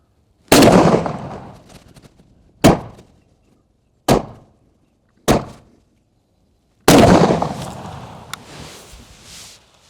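A Beretta 1301 Tactical shotgun fires five loud, sharp blasts at a 20-yard range. The shots come at irregular intervals and each one rings out with a short echoing decay.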